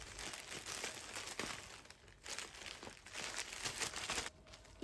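A plastic bag crinkles and rustles up close as a certificate is packed into it, with irregular bursts of crackling handling noise and no talking.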